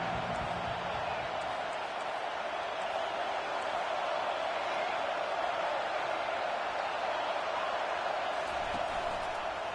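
A home crowd in the College Football 25 video game roars in a dense, steady wash of cheering noise that holds without a break for about ten seconds.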